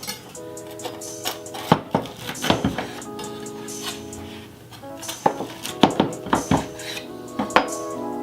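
A knife works through a homemade steak sandwich on a board, producing a busy series of crunchy cuts, clinks and knocks against the plate and board, close and fairly loud, with no talking.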